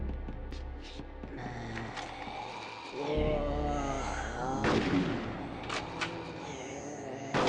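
Shotgun blasts from the video game Conker's Bad Fur Day, several loud booming shots with mechanical clacks between them, set against a constant game background hum.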